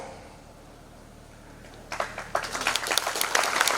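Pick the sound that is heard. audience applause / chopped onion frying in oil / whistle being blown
audience applause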